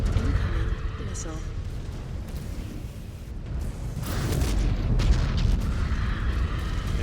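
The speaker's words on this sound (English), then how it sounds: "Incoming missile." Missile explosions in Mechwarrior 5: Clans, heavy booms and rumbling blasts rolling through a mech battle, with a loud burst near the middle and continuous combat noise under a voice.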